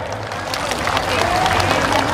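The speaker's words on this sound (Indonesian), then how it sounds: "Kita beri tepuk tangan untuk mereka." Crowd at an outdoor walk rally in Aceh applauding the volunteers, a steady wash of clapping and cheering that swells and holds loud alongside crowd babble.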